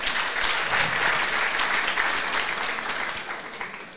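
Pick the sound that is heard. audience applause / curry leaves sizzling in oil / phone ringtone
audience applause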